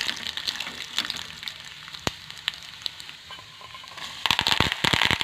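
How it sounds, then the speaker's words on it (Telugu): Tempering seeds such as chana dal, cumin, mustard seeds and urad dal crackle and sputter in hot oil for a carrot pachadi, a steady sizzle broken by sharp pops that grow denser and louder toward the end. "ఆ తాలింపు గింజలన్నీ ఆయిల్లో వేసేసుకొని ఫ్రై చేసుకోండి."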